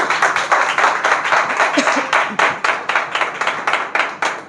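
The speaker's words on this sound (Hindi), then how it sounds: "सब ताली बजाएंगे प्रभु की महिमा" A church congregation claps together during a Sunday worship service, a steady run of quick, even hand claps filling the room for several seconds without any talking.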